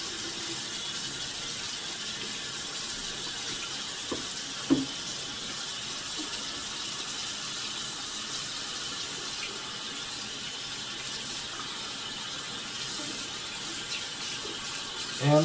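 Water running steadily down a previously slow bathroom sink drain, a continuous close hiss and gurgle with a couple of faint knocks, no voices.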